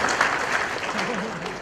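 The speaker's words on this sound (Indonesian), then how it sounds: "Tepuk tangan buat ikan." Applause at a halal bihalal gathering, a continuous wash of clapping from the audience with a voice faintly underneath throughout.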